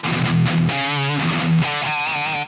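Electric guitar played through the Tube Screamer overdrive of an Ibanez PT5 multi-effects unit: a few loud, gritty sustained chords and notes shifting in pitch, close and continuous for about two seconds, with no speech.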